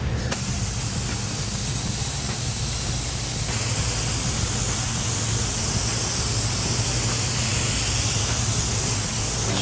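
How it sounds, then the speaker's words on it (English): An airbrush misting metallic silver paint onto a panel, a continuous loud airy hiss that holds steady for the whole stretch with no voices. "I'm just barely pulling the trigger and misting it on."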